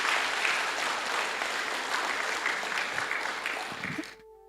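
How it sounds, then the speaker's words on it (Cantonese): A church congregation at a Sunday worship service gives sustained applause, a dense, fairly distant wash of clapping that holds steady for about four seconds and then cuts off abruptly. "我哋俾你哋掌聲好冇？"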